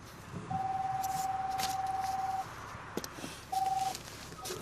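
Electronic tones from an in-car phone as a number is dialed: one long steady beep, a short pause, then a second brief beep over low road and cabin noise.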